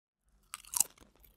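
Walkers Pizza Express American Hot crisps, flavoured with jalapeno and melted cheese, crunched between the teeth: a close, crisp burst of crunching bites and chewing lasting under half a second, then quiet.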